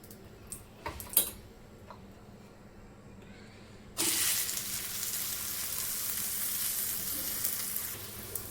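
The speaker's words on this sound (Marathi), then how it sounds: "थालीपीठ टाकून घेऊया." A poha thalipith is laid into a hot oiled pan after a few light taps and clinks, then bursts into a loud, steady broadband sizzle that holds to the end, close up, with no talking.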